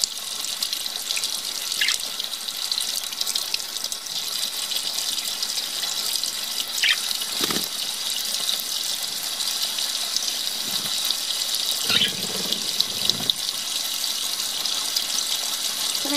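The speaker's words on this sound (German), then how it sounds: "Das ist Wasser." Water runs steadily from a tap into a sink with a continuous bright splashing rush, close by, with a few soft bumps and drips along the way and no talk.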